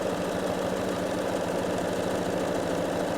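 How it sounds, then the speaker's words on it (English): A sewing machine stitches down both sides of a four-layer fabric handle, giving a steady, fast, even mechanical whir and patter that runs unbroken and close throughout, with no talk. "So literally just sewing down both sides here."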